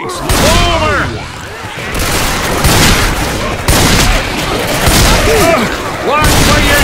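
Dense, continuous gunfire from Left 4 Dead 2 co-op play, with repeated loud bursts and booms running through the whole stretch alongside distant in-game voices.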